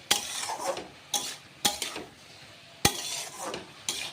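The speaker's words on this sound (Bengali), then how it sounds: "এইভাবে ভালো করে মশলার সাথে চাল কুমড়োগুলো নাড়াচাড়া করে মিক্স করে" A utensil stirs chopped ash gourd with spices in a pan, giving several distinct metallic scrapes and knocks against the pan over a soft background sizzle, with no talking.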